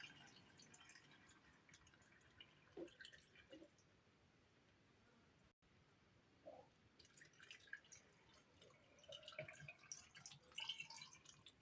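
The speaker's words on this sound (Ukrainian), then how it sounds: "заливаю холодною водою." Cold water is poured into a glass jar packed with cucumbers for fermenting. The sound is faint, quiet trickling and dripping, with soft intermittent splashes and no talk.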